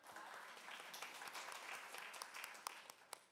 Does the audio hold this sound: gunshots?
no